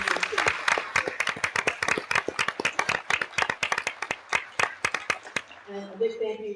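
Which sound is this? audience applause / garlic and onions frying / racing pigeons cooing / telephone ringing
audience applause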